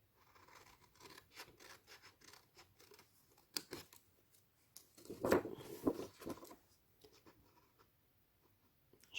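Scissors snip through paper, cutting out rectangles for a steampunk mail organizer craft, in a quiet series of close, soft, irregular cuts and rustles with a few sharper snips partway through.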